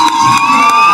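Dense, loud crowd cheering and shouting for two fighters after a bout, a steady roar of many voices that swells in bursts, with high whistle-like tones riding over it.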